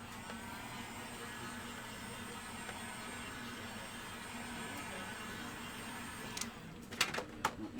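A hair dryer or heat tool blowing steadily on fresh paint on a small wooden salt box birdhouse, a constant close whooshing hum that ends with a few clicks and knocks near the finish.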